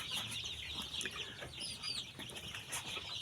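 A flock of young chickens at a poultry farm, fed in a brooding house, keep up dense, continuous clucking and high chirping from many birds close by.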